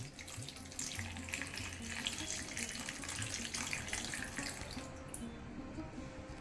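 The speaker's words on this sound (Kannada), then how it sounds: "1 ಲೋಟದಷ್ಟು ನೀರನ್ನು ನಾನು ಹಾಕ್ತೇನೆ." About a glass of water is poured slowly into a cooking pot while making Mangalorean moode, producing a continuous close splashing trickle that holds steady and eases off near the end.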